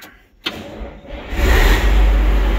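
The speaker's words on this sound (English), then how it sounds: "we'll fire it up." A Steiger CA360 industrial tractor engine starts up: a sharp crank catch, a few seconds of rough turning over, then the engine builds into a loud, steady, rumbling run close by.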